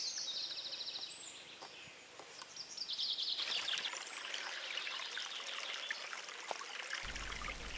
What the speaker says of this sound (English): This brook is the overflow from a small pond, which Lindsay didn't believe existed